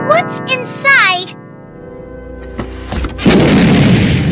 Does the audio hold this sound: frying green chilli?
no